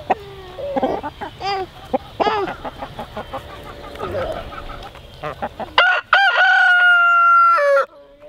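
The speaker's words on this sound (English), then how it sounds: "You guys want to give this one to the chickens?" Farm chickens cluck and squawk in bursts close by, then a rooster lets out a long, loud crow that rings out alone near the end over a steady outdoor background.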